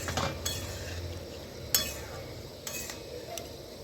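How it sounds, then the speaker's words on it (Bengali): A spoon stirs prawn curry with added water in a cooking pot, giving soft scraping and a few sharp metallic clinks against the rim over a quiet low simmer. "ভালো করে জলটা দিয়ে নেড়ে দিচ্ছি"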